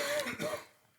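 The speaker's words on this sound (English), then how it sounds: "As he coughs in the background." A man coughs once or twice in the background of a workshop talk about tank repair and etching primer, a short rough burst that fades into quiet.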